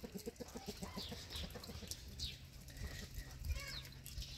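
Brahma chickens on a farm making soft contented clucks and murmurs, several short repeated calls at the start then scattered chirps, close but quiet, with faint background noise.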